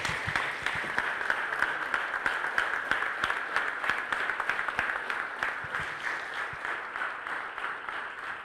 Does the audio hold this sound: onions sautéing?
no